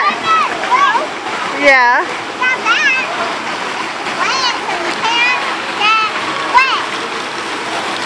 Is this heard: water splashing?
yes